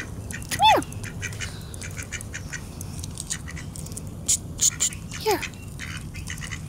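Ducks quack outdoors, one loud close call near the start and a short burst of quacks later, over steady background noise, while a person speaks a word.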